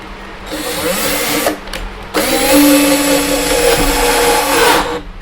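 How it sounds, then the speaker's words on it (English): A power drill whirs loudly in two bursts, a brief pause between them, the motor pitch shifting slightly as it bites. "So we will need to drill that in here."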